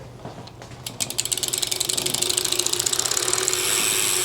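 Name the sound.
Brompton T Line bicycle ratchet click while fitting wheel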